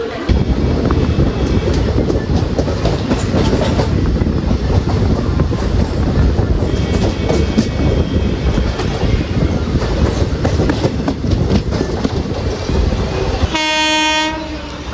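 A MEMU train from Coimbatore to Shoranur rolls past up close, loud rumbling and clattering wheels with wind buffeting the microphone, ending in a sharp blast of the train horn.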